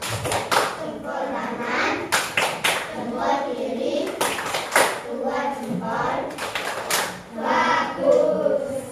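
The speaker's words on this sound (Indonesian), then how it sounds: "kita kasih tepuk salut dulu untuk kelompok 2" Classroom children perform a rhythmic 'tepuk salut' clapping chant for a student group, sharp bursts of clapping in a patterned beat alternating with the children's chanting voices.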